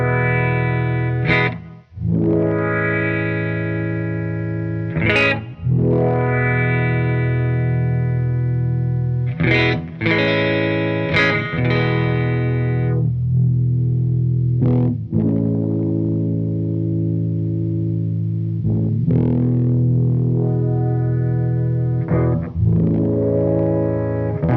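An electric guitar run through a Vongon Paragraphs II effects pedal plays distorted, sustained chords whose tone swells and sweeps under envelope modulation, each new strum triggering a fresh rise and fall, loud and close.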